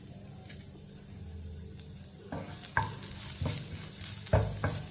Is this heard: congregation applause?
no